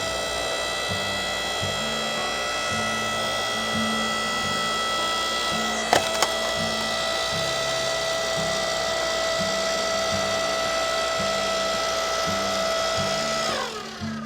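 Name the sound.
Ryobi 5 ton electric log splitter splitting wood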